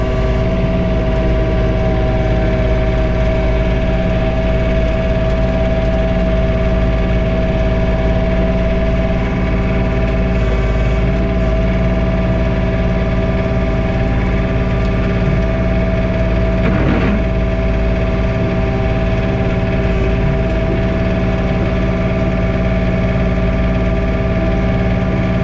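A John Deere 3046R compact tractor runs steadily, heard from inside the cab while blowing snow during a blizzard, with its engine hum droning loudly and continuously under faint cab rattles.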